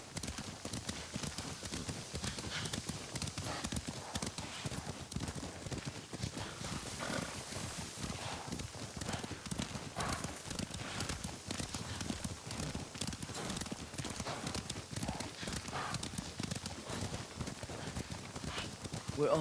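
Dense, continuous pounding of galloping horse hooves in Ghost of Tsushima, loud and unbroken throughout, blended with game ambience and noise.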